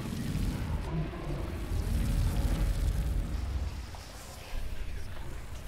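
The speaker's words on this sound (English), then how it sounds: "The place is on fire now all of a sudden." Roaring, crackling fire blazing in Slender: The Arrival, a dense low rumble that swells and holds steady throughout, close and loud with no pauses.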